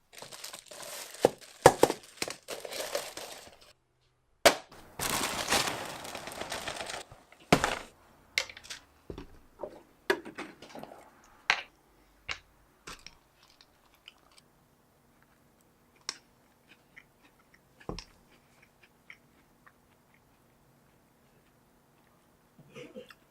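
Cereal is poured into a bowl and then eaten, with a burst of rattling pour followed by scattered crunchy chews, clicks and spoon taps that grow sparser over time, close by with no speech.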